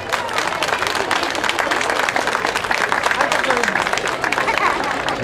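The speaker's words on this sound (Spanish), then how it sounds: "Aplauso," Audience applause at a provincial artisans' fair and exposition in Rufino, dense continuous clapping mixed with crowd babble throughout.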